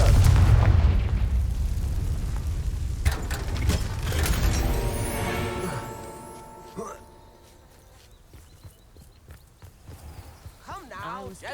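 Confringo fire-blast spell in Hogwarts Legacy, heavy booming explosions and a roaring rumble that fades over several seconds, loud and close, with a voice calling out the spell and speech following as things quiet down.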